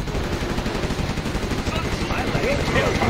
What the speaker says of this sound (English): Gatling cannon ready